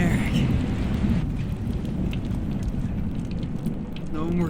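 A game thunderstorm from Life is Strange roars with heavy rain and low rumbling thunder, a dense, loud, continuous wash with occasional sharper flickers of sound.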